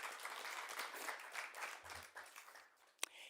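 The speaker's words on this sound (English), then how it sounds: "Please give a big round of applause." An audience at the Miss Namibia legacy handover event breaks into applause, a dense wash of many hands clapping that slowly thins out, with one sharp louder clap near the end.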